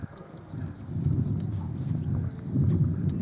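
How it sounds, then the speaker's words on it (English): A horse trots along with steady, rhythmic hoofbeats, moderately close, over soft wind and ambient outdoor noise. "Show me how fast this horse will trot."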